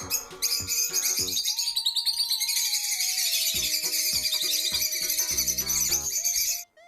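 Bird chirps and tweets run through a children's alphabet rhyme, bright repeated calls layered over music that fill most of the passage at steady, fairly loud level.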